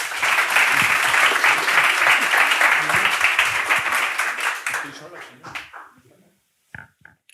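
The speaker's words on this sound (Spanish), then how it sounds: "Un aplauso." An audience at a live talk event bursts into sustained, dense applause that fades out over several seconds. A few scattered claps and faint voices follow.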